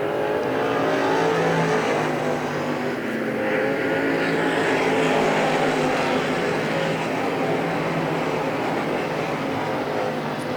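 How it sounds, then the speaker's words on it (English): Race cars roaring around the oval at Hagerstown Speedway, a dense, continuous engine drone at steady volume that stays loud for the whole stretch, with no talk over it. "behind them going to be Sweeney and Hutton as the leaders head down the backstretch."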